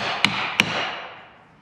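Two sharp metallic hammer blows on a vehicle transfer case, close, struck about a third of a second apart over a steady background hiss.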